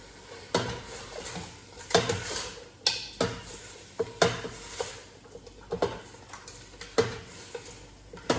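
Chicken pieces tossed dry in a home wok, a spatula scraping and clanking against the metal in irregular strokes with a faint sizzle underneath, close and fairly quiet, no talking.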